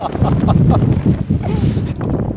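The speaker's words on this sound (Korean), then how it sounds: "바람 진짜 심하죠" Strong sea wind buffets the microphone at a fishing spot beside the sea near Songdo's Namhang Bridge, a steady loud roar with someone talking over it.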